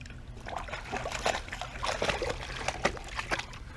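A pet in a small pool splashes and sloshes water continuously, with irregular trickles and splatters at moderate distance and no talking.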